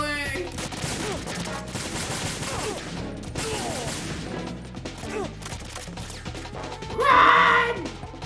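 Gunfire in Metal Gear Solid 2 rattles on continuously as a steady barrage, with game sounds layered in and a louder burst near the end.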